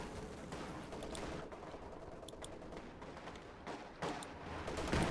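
MG34 machine gun fire in Company of Heroes 2, quiet, dense bursts of automatic fire rattling against distant explosions and battlefield noise, growing louder toward the end.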